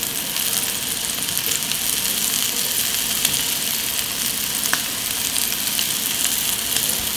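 Scallops pan-searing in a hot pan give a loud, even, continuous sizzle and crackle that holds steady throughout, heard close up with no talking.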